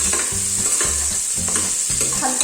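Green chili, onion and garam masala frying in a pan, a loud, constant hiss of hot oil with rhythmic stirring scrapes roughly every half second, close up and with no voices.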